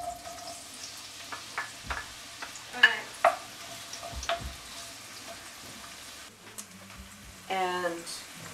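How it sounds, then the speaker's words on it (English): Onion frying in heated oil in a frying pan gives a soft crackling sizzle broken by scraping stirs, with a voice talking intermittently over the cooking. "now that the frying pan and the oil is heated sufficiently, I'm going to begin with the onion."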